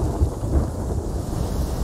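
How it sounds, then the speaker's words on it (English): A thunderstorm with rain in the Sea of Thieves video game, a loud, heavy low rumble of thunder rolling under a constant wash of rain and wind, steady throughout with no talking. "a storm is kicking up."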